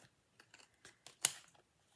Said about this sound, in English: I'm using these scissors because I don't care if they get glue on them